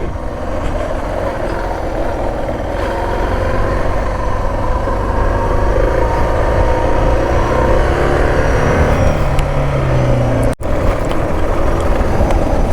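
A Suzuki DR650SE motorcycle rides forest trails at the end of summer, its engine running loud and continuous with steady wind rush throughout and a brief dip near the end.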